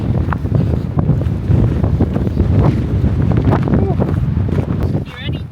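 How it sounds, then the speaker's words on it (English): Strong gusts of wind buffet the microphone on a hike at Yosemite, a loud, continuous rumbling roar with fluctuating bursts, and voices speak through it. "Oh my gosh, so windy."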